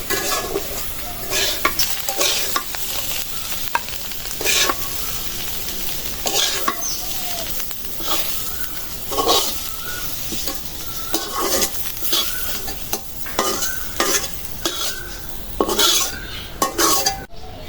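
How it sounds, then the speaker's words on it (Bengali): Spices frying and being stirred in a home kitchen pan, with a steady sizzle beneath repeated sharp scrapes and clinks of a utensil against the metal, close and fairly loud, no voices. "মশলা ভাজাটা হয়ে গেছে"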